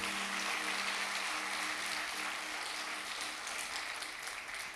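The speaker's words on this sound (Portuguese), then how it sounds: "Vocês podem aplaudir Jesus pela vida dele." A church congregation claps and applauds steadily in a broad, even wash of hand claps that fades slightly toward the close.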